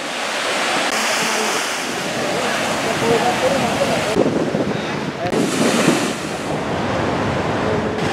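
Rough sea at the Ambalangoda fishing harbour in Sri Lanka, where moored multi-day fishing boats knock together in strong wind, with continuous loud crashing surf and heavy wind buffeting the microphone.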